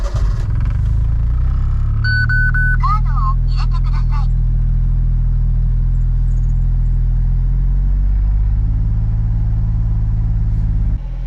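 A 1993 Honda Beat with Type R style modifications idles steadily after starting, a loud, constant low engine drone that runs unbroken through the clip and is joined briefly by a few electronic chime-like tones.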